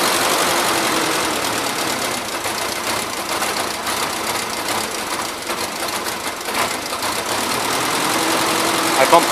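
An old tractor engine idles steadily with a choke recently bumped, a continuous mid-pitched running sound that stays fairly even throughout, with a voice speaking over it.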